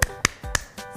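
Children doing the rhythmic 'tepuk semangat' clap in an online second-grade maths lesson produce four quick, sharp claps at a steady pace, close and fairly quiet.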